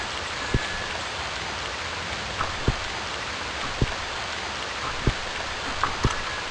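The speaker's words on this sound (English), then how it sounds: "I understand it's raining" Rain falls in the survival game Stranded II as a steady, dense hiss, with a few scattered heavier drops ticking at intervals and no voices.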